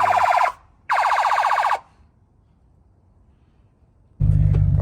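A police siren fitted to a rental car wails loudly and close in two short bursts, then stops for a pause before a low, rumbling blast starts abruptly.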